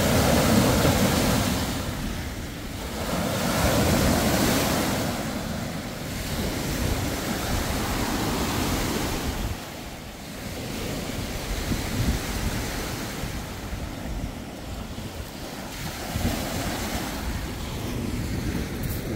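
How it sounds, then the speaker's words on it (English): Big waves crash and wash onto the Lake Ontario shore at Grimsby in repeated surges, loud and close with wind buffeting the microphone. "Look at those waves."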